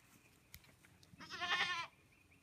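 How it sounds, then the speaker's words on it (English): A farm goat gives a single bleat, a short wavering cry lasting under a second at moderate distance, after a couple of faint knocks in an otherwise quiet outdoor setting. "So as I said, I'll be chasing goats."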